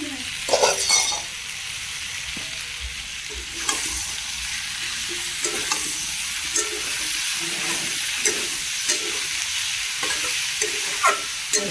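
Spiced vegetables with green chillies stir-frying in a pan, a constant close sizzle broken by repeated scraping stirs and light clinks of a spatula against the metal, with no talking.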